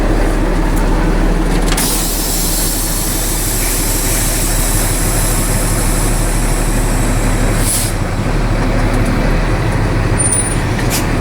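A commercial vehicle creeps forward under 5 mph during a DMV brake test, heard from inside as a loud, steady engine and road rumble with a brief hiss around the middle as the service brake brings it to a stop.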